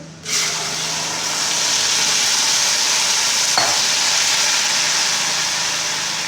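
Tomato paste sizzles with browned onions in a pan while Nargisi kofta curry masala is cooked, giving a steady, loud frying hiss throughout with one brief stir clatter midway.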